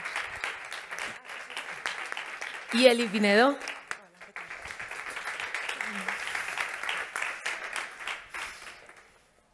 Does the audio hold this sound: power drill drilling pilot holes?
no